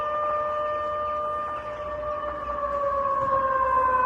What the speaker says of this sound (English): they got the air raid sirens going